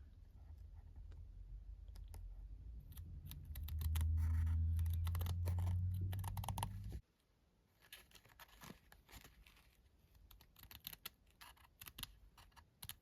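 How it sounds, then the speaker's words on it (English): Sharp scissors snip repeatedly through excess fabric trimmed from a handmade two-sided pin cushion, a run of close, crisp cuts over a steady low hum, then quieter scattered snips and rustles of cloth. "I'm gonna go ahead and go through and cut off some of this excess fabric first"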